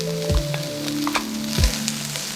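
Quinoa sautés in a hot pan with ginger and garlic, giving a steady close sizzle with two brief louder scrapes or stirs partway through.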